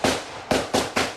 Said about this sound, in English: armed officers run into the path of danger as gunfire erupts